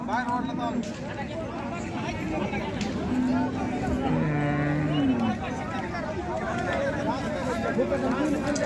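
Bulls low now and then amid a busy outdoor crowd at a cattle market in Salegaon, Kej, Beed district, India, with people chattering and calling all around.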